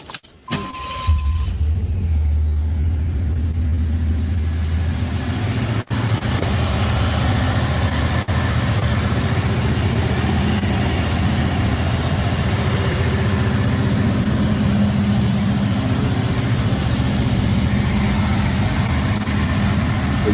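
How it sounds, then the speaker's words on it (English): A 1988 IROC Z muscle car engine cranks with a jangle of keys, catches and settles into a loud, steady, rumbling run close by for the remaining stretch, with one brief dip partway through. "We'll just hear like some engine noise when they start it up"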